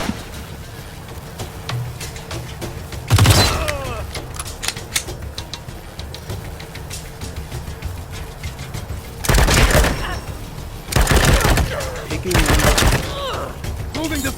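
Gunfire in the video game Wasteland 3: several loud bursts of shots, one early and a cluster later, over game ambience and character voice callouts.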